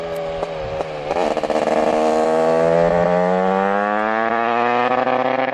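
A Honda CR250 two-stroke dirt bike built for ice racing screams loudly as it rides past, its high buzzing pitch climbing and then easing, with no talking.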